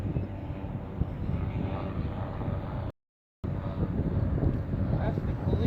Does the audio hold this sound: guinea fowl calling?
no